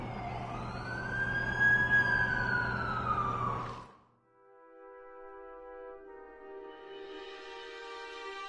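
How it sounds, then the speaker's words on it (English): An ambulance siren wails loudly nearby for about four seconds, sweeping up and down, then cuts off sharply into quiet before a soft sustained musical tone fades in. "That's the ambulance I called."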